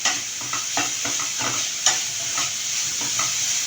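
Vegetables and tomato soften in a hot pan, with a loud, continuous bright sizzle and regular scraping stirs across a few seconds.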